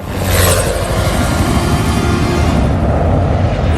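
A news helicopter flies overhead in a disaster film scene with tornadoes forming, its steady rotor and engine roar filling the air loudly and continuously, with dense rumbling throughout and no talk.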